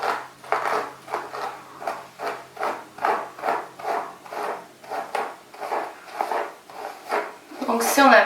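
Close, steady brushing of curly hair, about a dozen even bristle strokes at a regular rhythm, each a soft rasping swish, with a brief louder rustle at the end.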